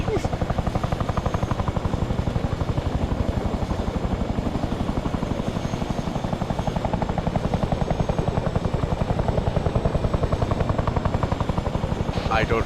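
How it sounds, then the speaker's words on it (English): A Chinook twin-rotor helicopter flying in the military game Arma 3, a loud, steady rhythmic rotor thump and engine drone continuing throughout, close and dominant, with a voice talking faintly underneath. "There's nothing funnier than a fucking Chinook doing all the orientation"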